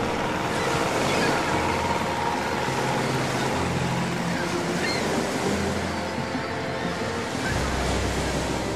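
Indian Ocean surf pounds a cliff shore in eastern Oman, a continuous loud roar of breaking waves with steady wind rumble, close and dense throughout, no voices.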